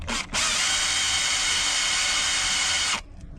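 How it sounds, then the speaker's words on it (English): Power drill spinning a polishing pad against a stainless steel marine deck fitting with metal restorer polish, a loud, close, steady high-pitched whir lasting a few seconds after a brief start, then stopping. "And the drill is literally doing all the hard work"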